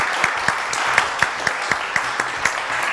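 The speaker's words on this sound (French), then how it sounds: "On l'applaudit très très fort, Miley Cyrus." Studio audience applause on a French TV show, moderate clapping with distinct sharp claps standing out in a fairly regular pattern, close and lively.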